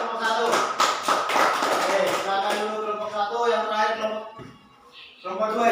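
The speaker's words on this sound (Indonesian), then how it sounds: "Oke, tepuk tangan dulu untuk kelompok 1." A school class claps for a student group: a dense burst of hand-claps in the opening seconds that thins out as a voice talks.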